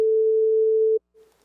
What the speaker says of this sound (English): It sounds just like a sine wave.